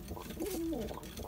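A tumbler pigeon gives a single short, soft coo, faint against a quiet background.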